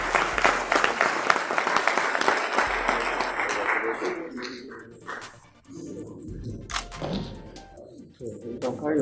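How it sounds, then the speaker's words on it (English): Audience applause at a pilot scheme event, a full burst of clapping for around four seconds that thins out, then scattered claps and room noise with some speech-like sounds. "a round of applause"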